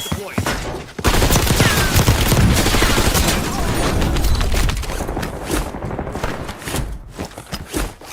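Dense, loud gunfire with World War II weapons in Call of Duty: Warzone rattles almost continuously with booms and bursts, easing into scattered shots toward the end.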